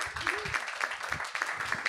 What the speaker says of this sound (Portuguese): A plateia bate palmas.